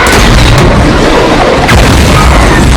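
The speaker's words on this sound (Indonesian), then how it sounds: "ia memutuskan melempar granat untuk sedikit melumpuhkan sang raja" A grenade blast in a zombie film: a loud, sustained boom with a dense rumbling roar lasting nearly three seconds, with a second surge of debris partway through.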